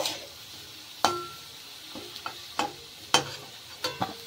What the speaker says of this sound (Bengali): গাজরটাকে একটু লাল লাল করে ভেজে নিতে হবে।